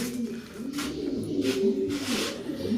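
Several racing pigeons coo continuously nearby in a warehouse loft, a soft rolling murmur with occasional louder bursts of noise.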